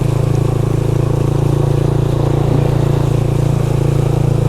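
A motorcycle rides through deep flood water on a submerged road in Minalin, Pampanga, its engine a steady, loud, close drone with a constant low rumble throughout.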